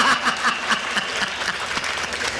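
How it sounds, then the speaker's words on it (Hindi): Audience members at a Hindi kavi sammelan poetry recital applaud in brisk, moderately loud clapping that runs through the whole short stretch without talk. "अभी उन्होंने ही तालियां बजाई है जो इस गोत्र के आदमी हैं।"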